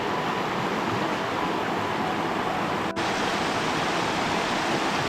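High river rushing through a national forest, a dense, steady broadband roar of fast water, loud and close, unbroken throughout with no voices.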